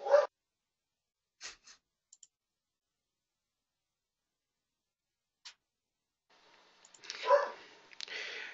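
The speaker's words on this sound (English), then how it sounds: "Pardon my dog." A dog barks in short, sharp bursts separated by silence, fairly close, with a few quieter clicks in between.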